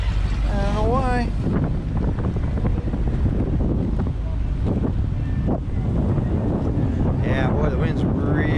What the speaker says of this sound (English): the wind's really starting to pick up now